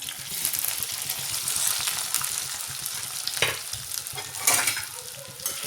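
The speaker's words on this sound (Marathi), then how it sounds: "आता मी अगदी कमी तेलात ते फ्राय करणार आहे" Food frying in about half a ladle of oil over medium heat for a traditional home recipe, a steady close sizzle with stirring and scraping throughout and a few louder spatters, no talking.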